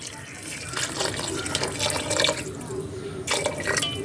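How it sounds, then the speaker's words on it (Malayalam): Water runs and splashes into a metal pressure cooker in a steady stream, briefly easing then pouring again, close up with faint background noise. "വെള്ളം ഒഴിച്ച് കൊടുക്കാം"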